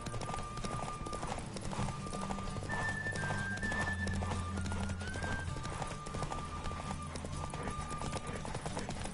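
Rapid rhythmic hoofbeats of a galloping horse in The Witcher 3, with tonal music playing over the steady clatter throughout.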